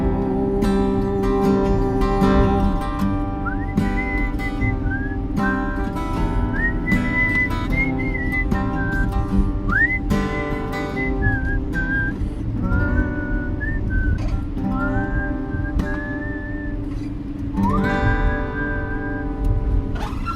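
Someone whistles a wandering melody over continuous steady music, the whistled notes sliding and bending at a moderate pace.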